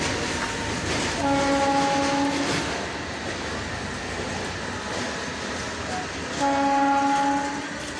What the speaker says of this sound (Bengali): এটা তারকেশ্বর লোকাল।